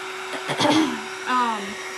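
A hair dryer blows on a tissue-paper decoupaged Tostitos cheese jar. It gives a steady close whir, with a voice speaking over it.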